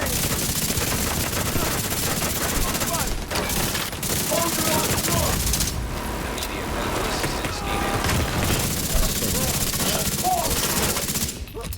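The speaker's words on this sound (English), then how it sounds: "I was shooting living daylights out." Sustained heavy gunfire in the video game The Division 2, a dense loud fusillade of rapid automatic shots rattling continuously for about twelve seconds with brief dips, voices mixed faintly underneath.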